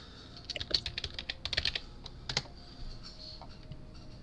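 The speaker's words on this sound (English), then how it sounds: "Could you type that out for me?" Bursts of typing on a computer keyboard, quick clustered keystrokes close by in a quiet room, with short pauses between runs and no talking.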